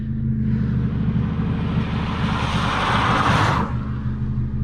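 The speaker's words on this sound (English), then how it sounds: "There is another car. We'll wait for this to go." A car passes at night, its engine rumble and tyre noise swelling to a loud, close peak before fading as it moves away. A low idling engine drones steadily underneath the whole time.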